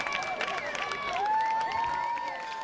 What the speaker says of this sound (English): Nothing like a Brian Howell touchdown to bring this Falcon crowd into it.